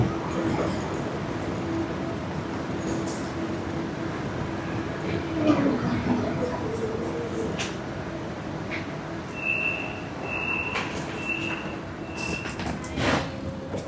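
A KLIA Express airport train pulls into KL Sentral station with a moderate rolling rumble and brief squeals, then a few short electronic chime tones sound near the end.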